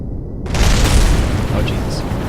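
Explosions in the space-flight game Kerbal Space Program: a loud, deep boom bursts in after a short quiet start and rolls on as a heavy rumble.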